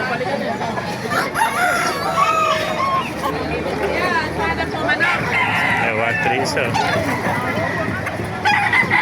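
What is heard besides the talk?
rooster crowing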